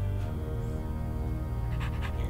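Dogs panting in a prison scene of a Wallace & Gromit adventure video game, a steady close breathy panting over a continuous low background hum, with no talking.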